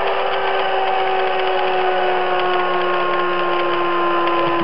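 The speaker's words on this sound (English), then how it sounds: "it freewheels pretty well, so I'll disconnect the power and we'll just watch it go down" A pulse motor generator rotor freewheels down after its power is cut, giving a steady mechanical whir with a sustained tone that holds throughout without any talk.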